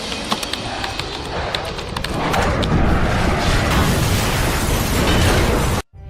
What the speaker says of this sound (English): An explosion rocks Dubai Airport, a black cloud rises